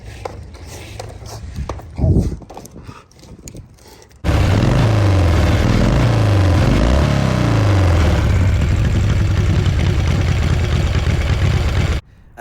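Indian Larry's custom motorcycle, the Chain of Mystery, fires up after some brief handling noises and runs loud and steady up close for about eight seconds with a few revs, then cuts off abruptly.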